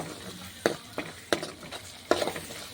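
Potato kurma masala with turmeric frying in oil, a soft sizzle broken by a few sharp spoon scrapes and knocks against the pan, close and moderately quiet, with no speech.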